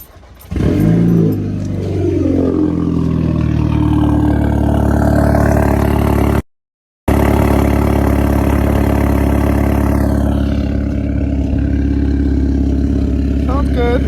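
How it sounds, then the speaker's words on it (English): Car engine starting cold and settling into a loud, steady idle close by, with a rough rumble and slight rev changes throughout and a brief dropout midway. "let me give you guys this cold start real quick so you guys can hear that."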